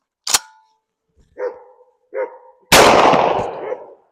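A shotgun firing a shell reloaded for the third time, a Nitro 27 load: a few short, sharp sounds with silence between them, then one loud, close blast that rings and decays for about a second.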